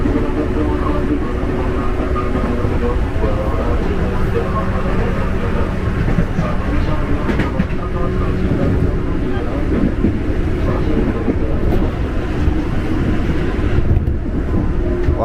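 Steady rumble of a JR 205 series eight-car electric commuter train rolling along rails toward Bogor, broadband and continuous throughout, with a faint hum underneath.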